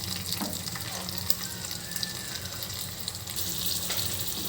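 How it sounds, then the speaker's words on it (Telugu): Green chillies dropped into hot oil in a new kadai: a steady, close sizzle and crackle that goes on throughout, with occasional light pops and small stirring knocks. "ఇప్పుడు దీంట్లోకి పచ్చిమిర్చి వేసేసుకుంటున్నాను నేను"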